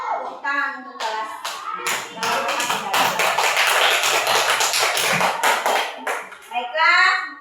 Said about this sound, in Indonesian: Tepuk tangan untuk kelas.